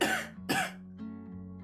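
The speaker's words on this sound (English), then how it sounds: "I'm getting our coughing out the way early" A person coughs twice in quick succession, two harsh close bursts, followed by a quieter low throat sound trailing off, with no talk.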